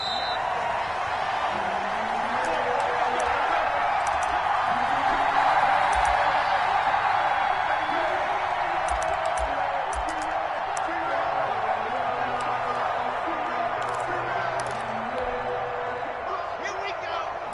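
Stadium crowd roaring steadily throughout an NFL video game matchup between the Las Vegas Raiders and the Denver Broncos, a dense, continuous wash of cheering with a play-by-play commentator talking over it.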